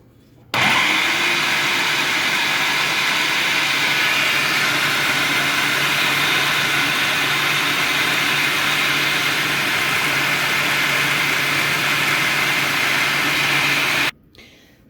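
A food processor blends radish tops into pesto, switching on abruptly into a loud, steady whirring roar that runs for about thirteen seconds before cutting off.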